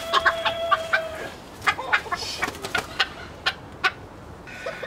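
A rooster of the Asil breed clucks in short, scattered bursts, close by, with quiet outdoor background noise between the calls.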